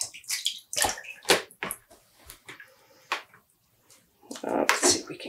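Dyed cotton yarn rinsed by hand in a basin of water, giving irregular splashes and sloshing bursts with quiet gaps between them.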